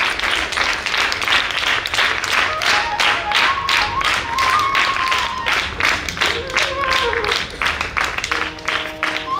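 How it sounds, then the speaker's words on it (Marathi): An audience claps steadily throughout to welcome a guru at a pravachan held in a school, dense continuous applause from a crowd with faint voices and sustained tones mixed in. "सर्वांनी या ठिकाणी टाळ्या वाजवायच्या आहेत।"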